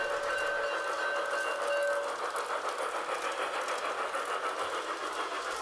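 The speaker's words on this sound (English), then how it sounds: "It allows me to operate two trains at the same time in both the short lines." A model train on an outdoor garden railway rolls steadily along the track with a continuous rattling hum, fairly close, with a thin whining tone in the first couple of seconds.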